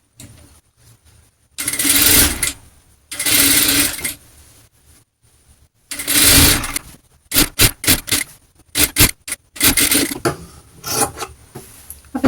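A domestic sewing machine stitching a cross piece onto a frock-style nightie, running in several short bursts of a second or two separated by pauses, with quicker stop-start runs toward the end; close and fairly loud, no talking.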